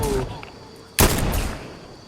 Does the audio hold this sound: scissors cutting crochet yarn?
no